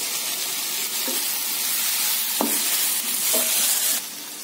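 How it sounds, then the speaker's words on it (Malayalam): Onion, tomato and capsicum sauté in a pan with a steady, bright sizzle, broken by a few soft clinks of stirring. "തക്കാളി ഇട്ട് തക്കാളിയും ചെറുതാ ഒന്ന് വതങ്ങി വന്നിട്ടുണ്ട് ആ സമയത്തിൽ കാപ്സിക്കം ഇടാം"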